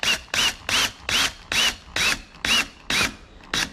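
A power drill drives screws into an exterior door knob, eight or nine short bursts of whirring in a steady rhythm with brief pauses between, loud and close with no talking.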